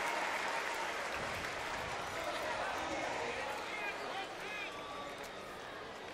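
Crowd at a college baseball game between Texas and West Virginia applauds a walk, a steady wash of clapping and cheering that holds for several seconds before easing slightly, with some voices mixed in.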